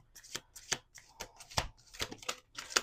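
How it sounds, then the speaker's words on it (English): A deck of playing cards is shuffled by hand in a series of sharp riffling bursts, about eight quick ruffles in a row, close and crisp with no talking. "Let's do 2 more shuffles."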